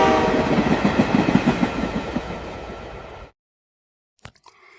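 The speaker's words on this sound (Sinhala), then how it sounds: "කෝච්චිය එනවා පෙනි පෙනිත් අයින් වෙන්නේ නැතුව" A train approaching with its horn, as a radio drama sound effect: a loud, steady rumble with rhythmic wheel clatter that cuts off abruptly, followed by silence and a faint brief noise.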